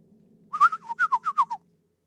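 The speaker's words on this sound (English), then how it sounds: "Bird calls." Series of clear melodic bird calls, about eight short whistled notes in quick succession, fairly close, over a low faint swamp hum in a tabletop role-playing scene.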